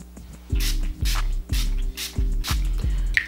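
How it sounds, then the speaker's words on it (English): A makeup foundation spray bottle is pumped about six times in quick succession, each pump giving a short, close hiss of mist. "shake it, hold the arms length away, and spray"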